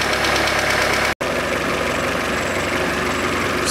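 Warmed-up Peugeot 407 1.8 petrol engine idling steadily after timing belt repair and reassembly, a close continuous hum with slight rhythmic knock, briefly cut by a short dropout near the start and otherwise unbroken.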